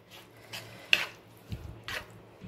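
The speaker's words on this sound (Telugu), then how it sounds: "ఇలా పోహా వేసేసుకొని బాగా మిక్స్ చేసుకోండి." Spoon scraping and clinking in a bowl while flattened rice poha is stirred into curd for dahi chura, soft irregular scrapes and a couple of light taps, close and quiet.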